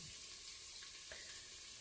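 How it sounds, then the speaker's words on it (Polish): Steady frying sizzle, close and continuous, of bacon and ingredients in a Tefal Cook4me multicooker, with a faint stir or clink partway through; no talking. "Naciśnij stop, aby zakończyć smażenie."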